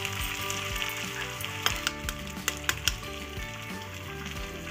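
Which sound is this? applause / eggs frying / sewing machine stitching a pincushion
eggs frying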